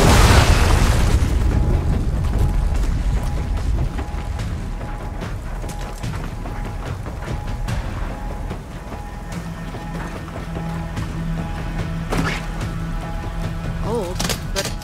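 Frag grenade explosion in Gears of War 4, a loud booming blast at the start that rolls into a sustained rumble, with scattered clanks and mechanical sounds afterward.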